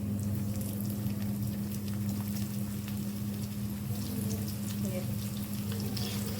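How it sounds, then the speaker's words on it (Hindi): Chicken wings shallow frying in hot oil give a loud, continuous sizzle with crackling pops and a low steady hum underneath. "अब ये ऑयल हमारा गर्म हो गया। इसके अंदर हम अपने विंग्स जो हैं इनको शैलो फ्राई कर लेंगे।"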